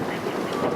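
Outdoor wind gusting and buffeting the microphone on a bright, sunny day, a steady broadband rush with no pauses for its short length.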